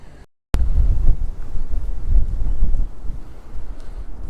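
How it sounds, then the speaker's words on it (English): Strong wind buffets the microphone at hilltop castle ruins near a Victorian folly, a steady loud low roar with gusting surges after a brief dropout at the start. "The wind is blowing quite hard at the moment."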